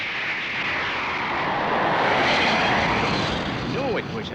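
An airplane passes loud and close over a quiet desert, its engine roar swelling steadily and holding strong for several seconds before easing slightly at the end.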